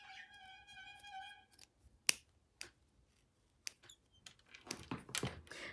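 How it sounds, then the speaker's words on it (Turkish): Sharp-pointed embroidery scissors snip through yarn for a pompom, giving a few crisp, isolated clicks and cuts spaced apart in quiet, with soft handling rustle and a brief tonal chime at the start. "Böyle ucu sivri, keskin makasınızla bu şekilde ip kalmayacak şekilde kesiyoruz."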